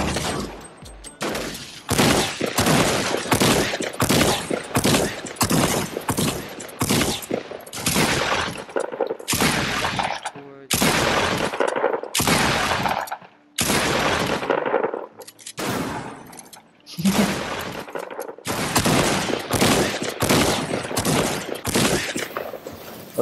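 Sustained gunfire at an ice truck with 100,000 hit points in a battle-royale style game, dense bursts of rapid shots broken by brief pauses, loud and close throughout, with no talk.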